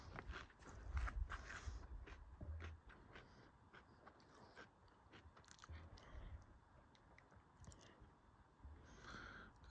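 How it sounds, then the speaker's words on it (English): Someone crunches potato chips outdoors on Mt Carrigain, giving close, irregular crisp bites and chewing over soft footsteps and quiet outdoor ambience, with no talking. "Disregard my chip chewing."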